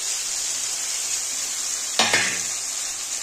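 Vegetables and potatoes frying in a pan for a fish roe curry, with a steady close sizzle throughout and a sharp burst of hiss and clatter as the spices are tipped in all at once near the end.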